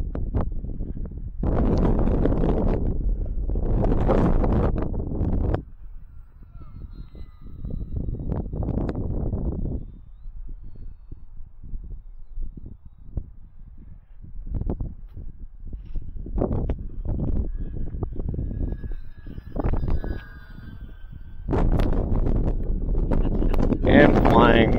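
Gusty wind buffets the microphone at a model warbird flying field on a windy day, coming in loud, rumbling bursts that rise and fall with quieter gaps between gusts.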